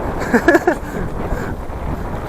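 Cold tailwind blowing across a microphone during a bicycle ride, a steady buffeting rush that runs throughout. A brief tonal burst sounds near the start, then the wind continues alone.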